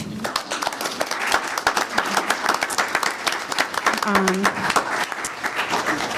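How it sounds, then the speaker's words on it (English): Audience at a school board meeting applauds with dense, steady clapping throughout, with voices and a brief murmur mixed in beneath the hands. "And I think that deserves a round of applause for good parenting."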